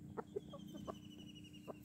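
Laying hens in a shaded coop cluck softly a few times, short scattered calls that sound faint and slightly distant over a steady low background hum.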